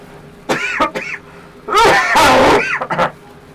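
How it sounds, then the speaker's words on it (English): One person coughs briefly, then lets out a long, deep, rough cough up close, followed by a couple of short coughs. "let me actually do one hearty cough off cam"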